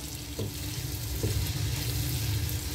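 Chicken and green bell pepper sautéing in a hot pan for a restaurant-style white pasta, a steady close sizzle with a couple of soft stirring scrapes, no talking.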